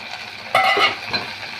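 Fresh coriander leaves and curry leaves sautéing in a hot pan for a peanut chutney, giving a brief sizzle with a short scrape of a spoon stirring them through the oil, close and fairly quiet.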